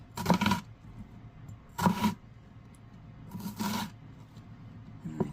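A knife slices kernels off an ear of corn in four separate crisp, rasping strokes, each one short and close, with quiet pauses between them.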